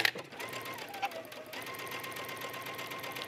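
A domestic sewing machine runs a regular straight stitch seam, a steady fast mechanical whirr held throughout at moderate level with a few brief clicks near the start.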